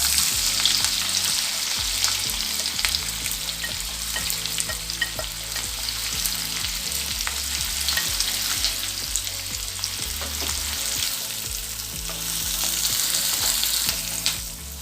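Two chopped onions hit well-heated oil and fry with a loud, continuous sizzle, broken by steady scraping and stirring strokes of a utensil in the pan, with no voices.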